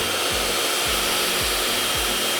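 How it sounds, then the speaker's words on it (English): A blow dryer runs steadily and loudly up close while drying hair, its constant airy roar broken by four soft, regular low thumps as the styling moves along. "So my blow dryer is never out here in the air."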